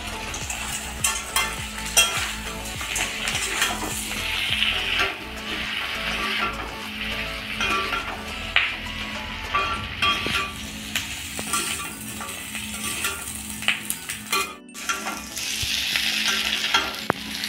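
Chilli chicken pakoras fry in a pan with salt, giving a steady loud sizzle and crackle throughout while a utensil stirs them with soft scrapes and occasional knocks, close by and continuous.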